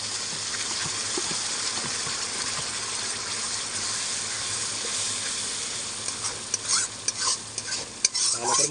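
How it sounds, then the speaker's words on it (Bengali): Spice paste hits hot oil in a pan for Bengali chicken kosha, giving a steady, close sizzle and hiss that runs throughout, with scraping stirs and clatter growing more frequent toward the end. "তো এই তেলের মধ্যে আমি এবারে মশলাটাকে দিয়ে দেবো।"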